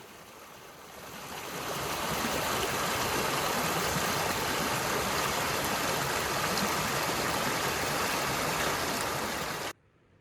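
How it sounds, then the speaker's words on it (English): An old woodland stream carries runoff water down from higher ground, a steady broadband rush that swells in over the first two seconds, holds constant and close, then cuts off abruptly. "One of the many woodland streams, carrying water runoff from the higher ground."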